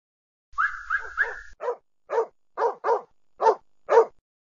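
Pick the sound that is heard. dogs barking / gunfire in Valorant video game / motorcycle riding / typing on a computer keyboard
dogs barking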